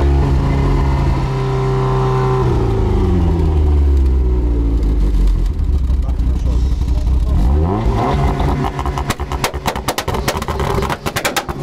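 A car engine revs hard at a Khorezm car market, loud and close, with rising and falling pitch sweeps through acceleration, then rough sputtering bursts toward the end, with voices faintly underneath.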